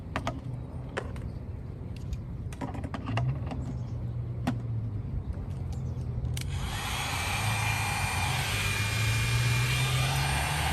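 300-watt curling hair dryer switched on inside a van, a steady whirring blower hum that starts a few seconds in and keeps running, preceded by scattered clicks and light handling noises.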